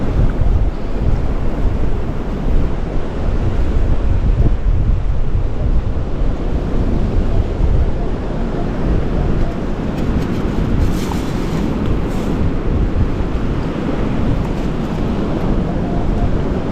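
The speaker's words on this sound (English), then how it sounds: "The waves are killing me." Loud ocean surf washing onto a beach after a tropical storm, a steady broadband roar of breaking waves with heavy wind buffeting the microphone throughout, no voices.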